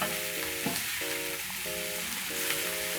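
Liver frying in a pan with spices being stirred in, a steady close sizzle with scraping stir strokes and a recurring tonal hum from a kitchen appliance underneath.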